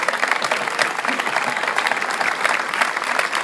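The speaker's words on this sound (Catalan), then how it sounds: "Un gran aplaudiment del poble del Palomar." Dense, steady applause from a village crowd at an outdoor folk singing performance in Manises, loud and continuous without a break.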